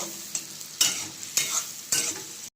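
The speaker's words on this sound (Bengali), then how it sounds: "গাজর এবং ক্যাপসিকাম এবং পেঁয়াজ সেগুলোকে একটু ফ্রাই করে নিব এখন হালকা করে" Carrot, capsicum and onion frying lightly in a pan, a continuous sizzle broken by three or four bursts of stirring scrapes, close and moderately quiet with no voices.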